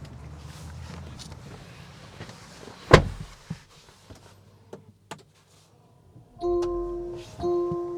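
Someone climbs into a Land Rover Defender 110: a sharp door thunk and a few soft cabin knocks and clicks, then two sustained electronic chime tones inside the quiet interior.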